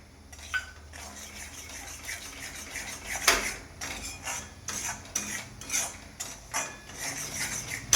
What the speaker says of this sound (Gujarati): આપણે શીરાને શેકી લેવાનો છે અને સાથે ડ્રાયફ્રૂટ બી અંદર નાખી દેવાનું છે